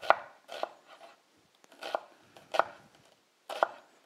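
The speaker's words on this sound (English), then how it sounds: "So we'll just slice them up." A knife slices through onions on a cutting board, cut a couple of millimetres thick for Venetian-style melted onions; five or six crisp, separate chops at an uneven pace, close and clear, with no talking.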